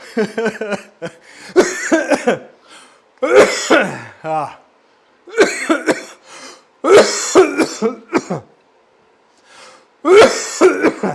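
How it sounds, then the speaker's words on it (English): A person coughs repeatedly in harsh bursts, close and loud, with short pauses between fits and some throat clearing. "See, there's that cough."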